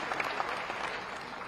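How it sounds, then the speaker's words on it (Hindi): Audience applause at a Raipur religious sacrifice ceremony and Sanatan culture conference, a steady dense wash of many hands clapping at moderate distance, sustained throughout without pause. "एक बार जोरदार तालियों का उनका यहाँ पधारने का पुनः अभिनंदन करते हैं"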